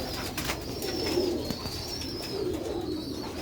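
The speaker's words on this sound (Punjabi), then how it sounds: "ਇਹ ਖਾਸ ਕਬੂਤਰ ਨੇ, ਖਾਸ ਨਸਲ ਹੈ ਮਾਸਟਰ ਸਾਹਿਬ ਵਾਲੇ ਚੂਹੇ ਮੋਤੀਆਂ ਦੇ ਕਬੂਤਰ" Pigeons of a rare Sialkoti breed cooing nearby, soft low throaty coos rising and falling in repeated phrases, with faint chirps and brief clicks around them and no talking.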